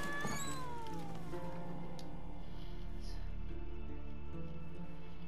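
A cat meows in The Witcher 3: Wild Hunt, one drawn-out falling mew near the start over a steady game music and ambience bed that continues alone afterward.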